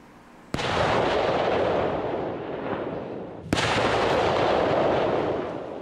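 Two heavy police demolition explosions at a clandestine drug airstrip, about three seconds apart, each a sharp blast followed by a long rumbling roar that lingers and fades slowly.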